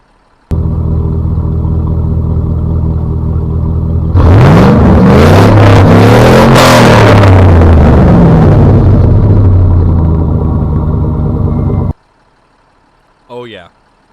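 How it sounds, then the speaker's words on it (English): A loud truck engine in the video game SnowRunner idles heavily, then revs in rising and falling surges for several seconds before cutting off abruptly, followed by a brief short sound. "of an awesome engine revving."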